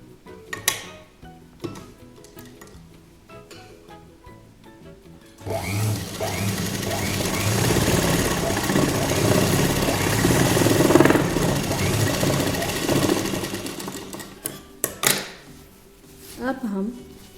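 A sewing machine stitches elastic with a simple straight seam, running steadily for about nine seconds in the middle, with brief knocks and handling sounds before and after and someone talking at the start and end.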